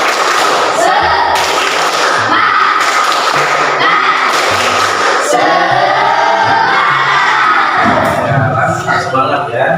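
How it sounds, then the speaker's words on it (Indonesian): A classroom of students performs the rhythmic tepuk semangat spirit clap, loud patterned bursts of claps and thumps with children's voices shouting along through the whole stretch. "coba kita tepuk semangat dulu begini ya. 1, 2, 3, tepuk semangat."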